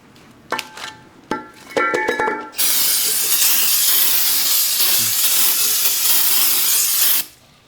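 Brake parts cleaner sprays from an aerosol can onto the new brake parts of a 2019 Honda Pilot during a brake pad and rotor job: a loud, steady hiss lasting about five seconds after a few short clanks and taps.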